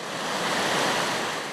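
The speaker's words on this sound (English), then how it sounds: "This is an angler's paradise, the Blue River." Flowing water of the Blue River in Oklahoma, a steady, loud broadband rush of moving water with no breaks and no other sounds.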